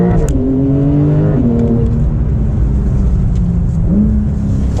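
A Porsche 992 Turbo S, an all-wheel-drive sports car, accelerates hard from inside the cabin, its engine note climbing steadily with audible gear shifts where the pitch drops and rises again, loud and continuous throughout.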